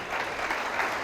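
Church congregation applauding during a Spanish-language sermon, dense steady clapping from a crowd throughout, moderately loud and fairly distant.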